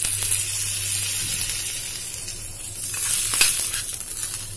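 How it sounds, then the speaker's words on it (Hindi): Hot tadka, a spiced tempering, hisses and sizzles steadily as it is poured into a dish, with a brief louder crackle partway through and no voices. "तो अब हम सारा तड़का इसके अंदर डाल देंगे।"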